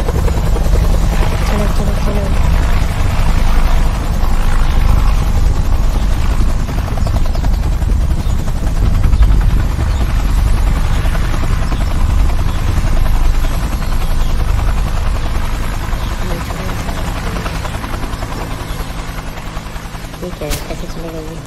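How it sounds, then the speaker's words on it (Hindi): A helicopter arriving in the co-op climbing video game Chained Together, a loud continuous rotor thrum throughout, with a player talking over it. "फाइनली हेलीकॉप्टर पहुंच गए।"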